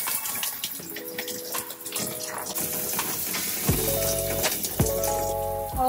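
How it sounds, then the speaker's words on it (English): Water runs steadily from a tap or shower while hair is washed with a Perma-Earth natural shampoo, a continuous close splashing with a few louder gushes toward the end, and no talking. "I'm about to wash my hair for the first time with the Perma-Earth"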